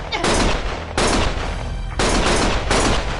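Gunfire from the video game Lost Judgment comes in loud, dense bursts, several sustained volleys each cut off abruptly before the next begins, with no pauses between them.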